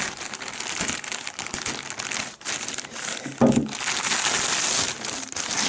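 Close, continuous crinkling and rustling of plastic packaging being handled and pulled open, with a sharper crackle midway.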